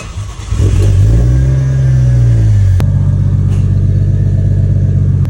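A big-turbo 1JZ engine in a Toyota Soarer fires up and revs hard and close, its loud steady roar rising and falling, then settling into a rough, throbbing idle.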